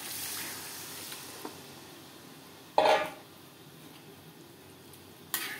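Water poured into a hot pan of spiced potatoes for a bhetki fish-bone curry gives a sudden loud burst of hissing sizzle that quickly dies down over a low background hiss, with a second brief burst near the end.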